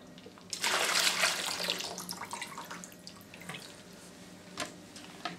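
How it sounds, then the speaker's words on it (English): Water pours out of a water filter canister into a sink in a loud, splashing gush that tapers into a thinner trickle and a few scattered drips, close by with no talk. "So now you're going to empty out the water from the canister."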